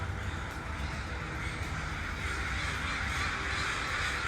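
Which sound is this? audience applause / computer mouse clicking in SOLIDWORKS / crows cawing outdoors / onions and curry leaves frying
crows cawing outdoors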